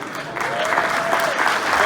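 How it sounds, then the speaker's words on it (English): Audience at a fraternity black tie ball applauding, a sustained burst of clapping filling the room, fairly loud and even, with faint voices mixed in. "Husband Ronald, go ahead and stand and take your applause for supporting this young lady."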